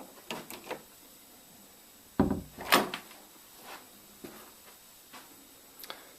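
A closet door in a Merritt Island, Florida home clicks and thumps shut with a sharp latch, followed by a few light taps and knocks in a quiet room.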